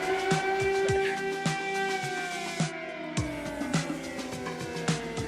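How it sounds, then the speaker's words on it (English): An air raid siren sounds in Kraków, a steady, sustained wailing tone that sags slightly in pitch while nearby footsteps and clattering knocks repeat beneath it. "as we just left the bus, the siren, the air alarm are going."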